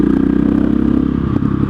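A KTM 660 SMC single-cylinder motorcycle being ridden, its engine a loud, steady low thrum with rapid regular pulsing and some rattle, close and continuous throughout.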